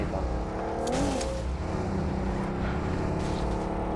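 A car engine drives and revs in the battle royale video game BGMI, holding a steady motor drone with pitch rises and falls, and gameplay noise around it.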